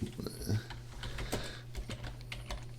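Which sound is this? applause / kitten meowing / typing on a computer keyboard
typing on a computer keyboard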